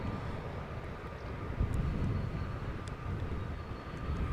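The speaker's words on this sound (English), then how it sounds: "the Neo we are watching leave us is 3 years old" A three-year-old Delta Airlines Airbus Neo departs Amsterdam Schiphol, its engines a steady, moderately distant broadband roar that swells slightly midway, with faint background clicks and no talking.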